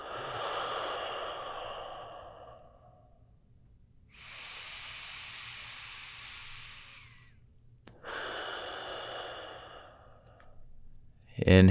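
Deep breaths during a yoga twist: long, airy exhales and inhales, three drawn-out breaths close to the microphone, soft and hissing, with quiet pauses between.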